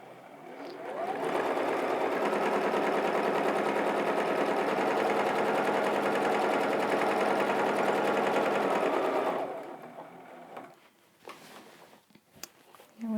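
A sewing machine stitches a marked snowflake design on a quilt, running in a steady, continuous whir for about eight seconds before stopping, followed by quiet handling sounds.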